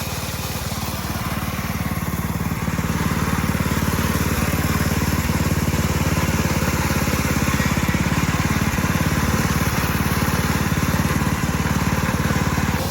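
A reel lawn mower's engine runs steadily with the reel disengaged, a continuous nearby drone with a low throbbing hum that holds an even level throughout, no voices over it.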